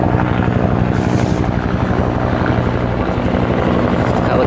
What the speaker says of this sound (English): Helicopter's coming back.